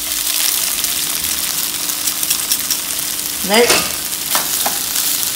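Rice sizzles steadily while being stirred in a hot pot for egg fried rice, with scraping moving through the frying hiss and a brief spoken word partway through.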